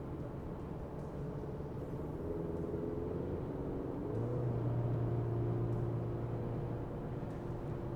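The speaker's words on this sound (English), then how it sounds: "Let's go ahead and hop here on the highway, get an acceleration here." A 2024 Chevy Colorado ZR2 accelerating on a highway gives a steady cabin rumble of road and engine noise. A droning engine tone rises and holds louder midway through.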